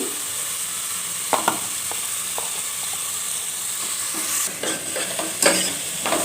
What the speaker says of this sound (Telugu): టమాటా, పచ్చిమిర్చి కూడా వేసుకున్నాం కదా ఫ్రెండ్స్, వేగుతుంది.